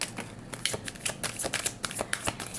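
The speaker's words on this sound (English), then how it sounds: "usually cards do come out during the shuffle" Cards riffled and shuffled by hand during a tarot reading, a close, dry flutter of repeated quick snaps and slaps in uneven bursts, with no talking.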